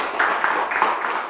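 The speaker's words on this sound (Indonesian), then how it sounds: "Boleh tepuk tangan sekali lagi untuk Stephanie Wijaya." Audience applause for Indonesian women's badminton athlete Stephanie Widjaja, a steady wash of clapping lasting the whole moment at moderate loudness, with no voices on top.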